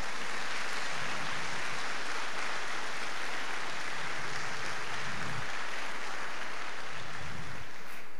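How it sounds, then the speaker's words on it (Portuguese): A church congregation gives a round of applause, a loud, dense and continuous roar of clapping sustained throughout, with faint low thumps beneath. "Dê uma salva de palmas a Ele"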